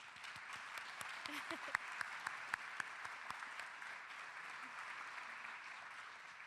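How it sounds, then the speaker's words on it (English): Sustained applause from an annual meeting audience, a steady wash of many hands clapping, with a few louder individual claps standing out, heard from some distance. "Hold for applause."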